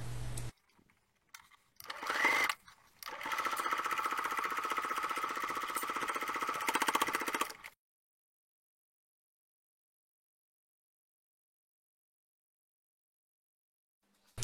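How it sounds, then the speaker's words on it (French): A sewing machine topstitches a folded fabric bag's handle 2 mm from the edge in a steady, fast mechanical whir lasting several seconds after a few short starts, then stopping into silence. "On vient coudre comme une surpiqûre à 2 mm du bord de chaque côté."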